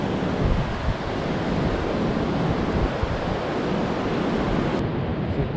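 Surf washing onto an Oregon beach, a continuous broad roar of breaking waves mixed with wind noise on the microphone, steady and close throughout.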